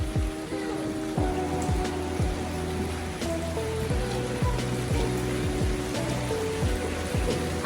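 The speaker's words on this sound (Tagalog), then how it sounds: "Ulan na, baka mabasa kayo." Rain patters steadily on surfaces beside a river at a villa in Bali, a continuous dense wash of drops close by with no talk over it.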